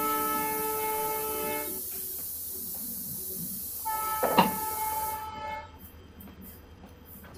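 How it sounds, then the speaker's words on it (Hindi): A long, sustained train horn sounds in Trainz Simulator as the train approaches a station to alert the station master, held steadily for several seconds over engine rumble before cutting off. "एक लंबे से हॉर्न देते हुए यहाँ पर स्टेशन मास्टर को अलर्ट करते हैं"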